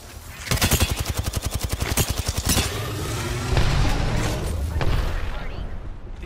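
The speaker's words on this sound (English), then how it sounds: "The enemies are shooting at me" Rapid automatic gunfire from enemies in a fast-paced shooter video game, a dense burst of sharp repeated shots for about two seconds, then scattered heavier blasts and rumble with busy game noise.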